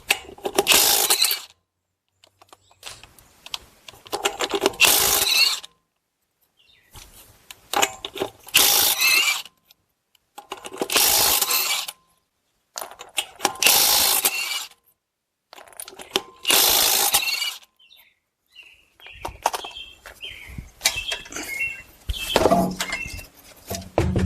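Impact wrench spinning off 22 mm lug nuts from a Buick Enclave wheel, several loud bursts of a few seconds each separated by short pauses, with lighter clanking of parts toward the end.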